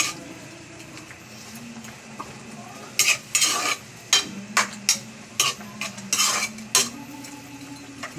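A utensil stirs a pot of boiling chicken in repeated scraping strokes, loud and close, over a constant low simmering hiss.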